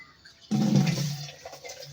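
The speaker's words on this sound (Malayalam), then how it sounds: "നമ്മൾ പൈപ്പിലെ വെള്ളം പിടിച്ച് വയ്ക്കുകയാണ് അകത്തേക്ക്" Tap water pouring from a household pipe into a vessel, starting abruptly as a loud close gush and then easing to a steadier, softer flow.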